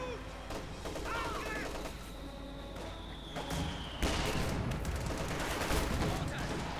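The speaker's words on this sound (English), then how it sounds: "A lot of firing there." Dense gunfire from a Company of Heroes 2 multiplayer battle, rapid overlapping bursts and volleys that rise in intensity partway through, with a voice talking over the fighting.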